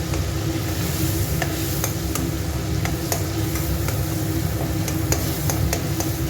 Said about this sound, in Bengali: 100 গ্রাম বাটার থেকে 1/3 অংশ কড়াতে প্রথমে দিয়ে দিতে হবে